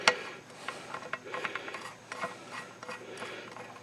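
A socket ratchet spins bolts down onto the oil pump of a Kohler Command Pro V engine, giving quiet, close, rapid clicking in uneven bursts with small metallic ticks and no speech.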